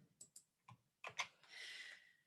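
Keys clacking on a computer keyboard as text is pasted in, a few separate taps followed by a quick burst of typing, close and fairly quiet with no voice.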